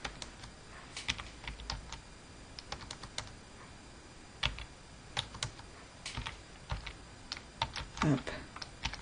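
Typing on a computer keyboard while setting up an AWeber sign-up page: scattered clicky keystrokes in short bursts and single taps, fairly close, with a brief low voice murmur near the end.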